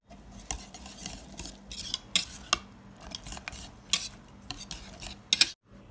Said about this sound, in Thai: คนให้เขาเข้ากันนะคะ